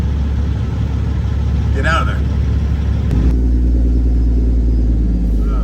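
An Amazon Freightliner Cascadia semi truck rumbles past nearby with a deep, loud engine drone that swells partway through, while someone talks over it.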